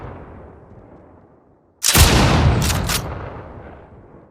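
A shotgun fires in a video game: after quiet ambient hum, one loud, close boom erupts with a long rolling tail and a couple of quick crackling bursts on top.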